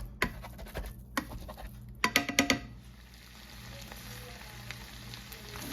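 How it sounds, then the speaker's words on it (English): Ground meat is broken up and fried in a pan, a soft steady sizzle under a cluster of sharp scraping clacks from a utensil, close by and without talk. "So I'm just going to break this up like ground meat and fry it up."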